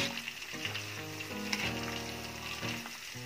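Shallots fry in a pan with a steady close sizzle and occasional stirring, with no one speaking.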